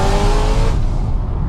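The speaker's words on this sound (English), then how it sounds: "4-litre V8 naturally aspirated engine from factory" A supercharged BMW M3 E92 with a 4-litre V8 revs hard and loud up close, its rising engine howl cutting off partway through into a rumbling fall-off. No one speaks.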